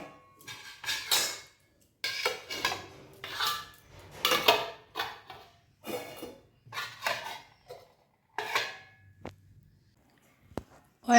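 Cooked dishes and pots in a kitchen being covered with lids, a series of short clinking metal and ceramic knocks in irregular bursts, close and moderately loud, with brief pauses between clatters.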